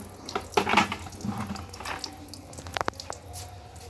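Water is poured gently from above into a tub planted with lotus to float off straw debris, giving a soft, close splashing and trickling with a few brighter drips near the end.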